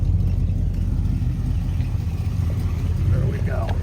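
A 1971 Oldsmobile Cutlass S runs at a steady idle, its low engine rumble continuous and close throughout, with a faint rising tone near the end.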